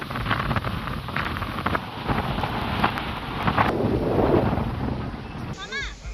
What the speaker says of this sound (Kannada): ಇಲ್ಲಿ ನೋಡಿ, ಧುಮ್ಮಿಕ್ಕುತ್ತಿರುವ ಗೋಕಾಕ್ ಜಲಪಾತವನ್ನ